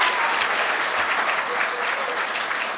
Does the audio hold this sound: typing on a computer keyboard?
no